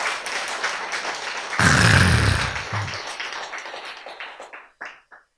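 An audience bursts into loud clapping that swells suddenly, holds for about a second, then thins into scattered claps and fades to a few last isolated slaps.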